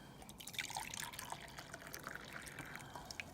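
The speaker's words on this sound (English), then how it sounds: "Pour it into the cup." Water is poured into a cup outdoors beside an alcohol camp stove, a soft continuous trickle with small splashes and drips, moderately close and steady throughout.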